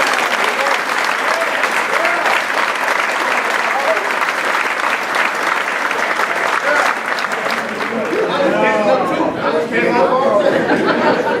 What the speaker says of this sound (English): I want you guys to join with me in giving my mother and father a round of applause